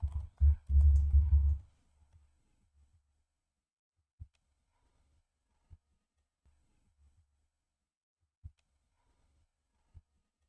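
Computer keyboard typing: a short quick burst of keystrokes at the start, then a handful of isolated, faint taps spaced seconds apart in otherwise quiet surroundings.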